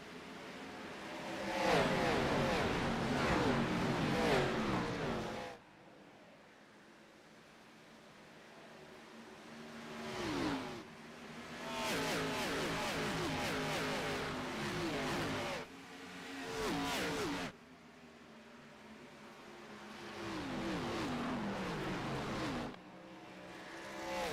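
Xfinity Series stock cars racing at Darlington under green flag, loud engine roars sweeping past in repeated bursts with drops to quieter stretches between packs, a commentator talking over the action.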